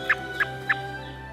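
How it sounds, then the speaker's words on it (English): Birds recovered from rehabilitation are being released outdoors, with three short, evenly spaced calls standing out above a faint, steady background. "We are releasing some awesome birds that have fully recovered."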